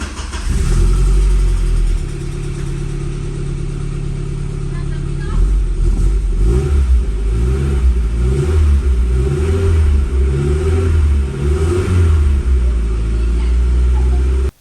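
An Audi 80 engine running just after its first start in over two years, a loud close rumble with repeated revving surges and a steady idle between them.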